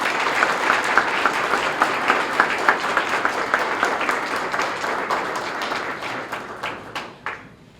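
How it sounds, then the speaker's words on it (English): Audience applause at a St. Paul police life saving award ceremony: steady, fairly close clapping from an indoor crowd that carries on for several seconds before tapering off and stopping. "So let's give Nick a round of applause."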